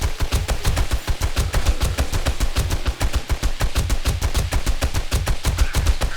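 Turrets and a machine gun in the video game 7 Days to Die fire in a rapid, unbroken stream of loud, evenly spaced shots, close and dense throughout with no voices.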